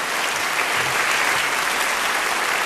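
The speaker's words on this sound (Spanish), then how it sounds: "Un aplauso fuerte" Theatre audience at a televised gala applauding as a comedian is introduced, steady dense clapping filling the room throughout without a break.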